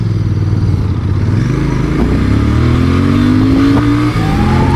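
A Royal Enfield Bear 650 motorcycle pulls hard in first gear, its engine drone rising steadily in pitch as it revs up, loud and close with road and wind rumble beneath and no talk.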